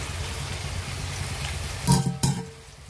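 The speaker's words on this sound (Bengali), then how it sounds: "এবার এটা আমি কড়াইয়ের মধ্যে ঢেলে দেবো।" Salted, turmeric-marinated chicken pieces tipped into hot spices in a kadai, giving a steady sizzle that flares into two sharp bursts as the meat hits the oil.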